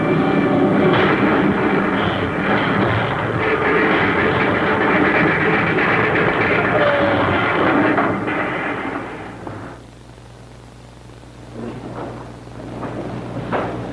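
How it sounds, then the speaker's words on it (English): Spaceship crash landing effect in an old radio drama, a loud rumbling roar that holds steady for several seconds, then drops sharply into a quieter low hum with faint scattered noise. "We'll make a crash landing."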